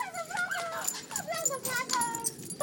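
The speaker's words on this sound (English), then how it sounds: "That's my dog." Small dog whimpering and yipping nearby in a string of high, wavering cries, with people talking faintly in the background.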